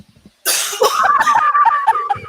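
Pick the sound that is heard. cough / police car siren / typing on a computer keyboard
cough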